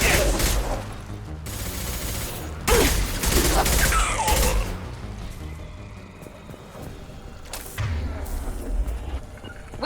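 Bursts of gunfire from a Mass Effect 2 firefight rattle in several loud volleys with short pauses between, mixed with booms and the clatter of battle.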